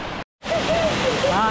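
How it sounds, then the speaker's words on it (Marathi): Water of the Thoseghar waterfall near Satara flowing over the top and dropping down, a steady, loud rushing roar after a brief silent gap, with faint thin tones above it. "तिथून वरून खाली पाणी पडत आहे धबधब्यामध्ये."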